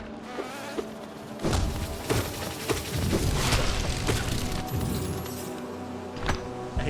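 Bees buzz in the Hollow Knight video game, a steady insect drone with scattered thumps and clicks from gameplay running underneath.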